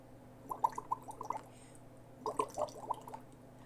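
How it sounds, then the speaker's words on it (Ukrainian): A small stream babbling, heard as two clusters of quick gurgling, dripping water notes separated by a pause, soft and fairly close, with no talking. "Ще й струмок співає веселим дзюркотанням"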